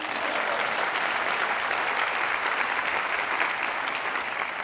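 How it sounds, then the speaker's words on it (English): Steady, full audience applause at a girls' education forum, a dense even wash of clapping that holds at the same strong level throughout with no voices on top. "That's applause."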